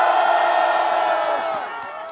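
Rally crowd at an outdoor protest against a presidential impeachment, cheering and shouting in a dense, sustained roar that fills the whole clip and eases slightly toward the end.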